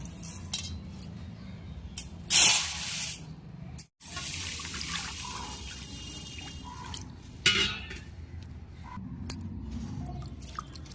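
Water runs and splashes into a container of rice grains, with a louder gush near the start and a brief clatter later, over a steady low background.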